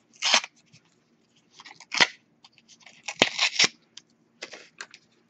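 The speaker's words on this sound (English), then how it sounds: "Ripping, there we go." Gessoed paper is torn by hand in several short, crisp bursts with brief pauses between them, close and fairly quiet, with no talking.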